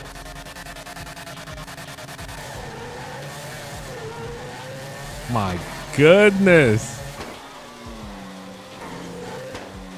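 A Mercedes GT63 in GTA 5 hums along, then revs hard with rising engine whine and tire squeal in loud surges, while someone talks over it.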